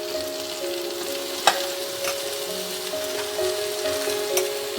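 Pumpkin and beans sizzle in hot oil in a pan over low heat, a steady crackling hiss with a few sharp pops and the scrape of stirring, no voices.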